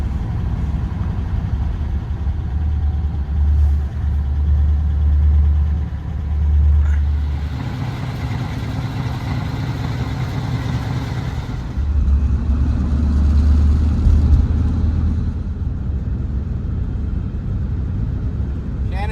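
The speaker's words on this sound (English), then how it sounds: "Letting me drive now, heading out on the highway for the first time, up to 60 miles an hour" A 1949 Meteor car cruising on a highway at around 60 miles an hour, with a steady low engine rumble and road drone heard from inside the car, rising slightly at times.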